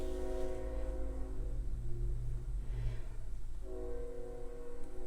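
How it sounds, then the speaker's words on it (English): Train passing outside, a low steady rumble with a long sustained horn blast that fades and then sounds again, muffled and distant behind indoor walls. "That train annoys the heck out of me."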